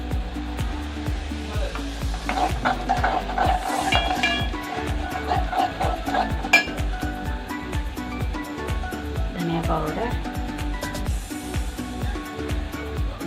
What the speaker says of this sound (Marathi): हे कांदा आता आपला लाल झाला आहे आता आपण मसाले ॲड करणार आहोत